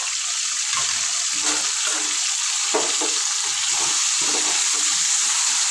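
Washed chicken seasoned with coarse salt and turmeric cooks in a pan for a drumstick chicken curry, giving a steady close hiss of sizzling moisture broken by soft stirring clinks and scrapes, with no voices.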